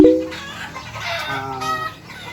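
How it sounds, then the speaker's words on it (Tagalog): Newly hatched chicks, about 75 of them, peep and cheep close by in a busy overlapping chorus, with one sharper call at the start and no talking. "ito yung bagong pisa natin ng mga sisiyo. 75 chicks lahat."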